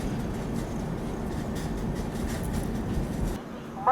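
A train departing past a station on an Indian railway, giving a steady low rumble and clatter of passing wagons at moderate distance, continuous and even before fading slightly at the end.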